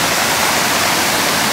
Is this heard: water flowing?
yes